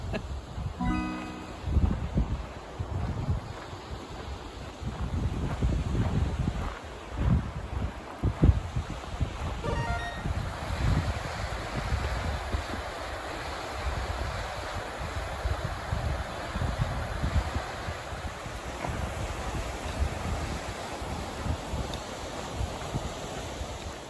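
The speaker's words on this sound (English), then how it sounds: "That creek is so loud, I just can't even talk while I'm filming." Loud creek water rushes beside a hiking trail at Jones and Whites Creek in Nevada, a constant broad roar with wind buffeting the microphone and occasional rustling bumps, no talking.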